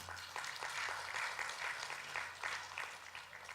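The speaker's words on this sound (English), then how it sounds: "please give a big applause for Mr. Indra." Audience applause at a customs conference session on sustainability and the digital economy, a soft, distant patter of many hands clapping that rises and eases gently over a faint low hum.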